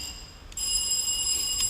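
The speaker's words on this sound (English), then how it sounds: "Let's make sure our bells are working." An electronic quiz answer bell rings with a bright, sustained tone during a bell check at a school science and maths quiz competition, sounding clearly from about midway and continuing to the end.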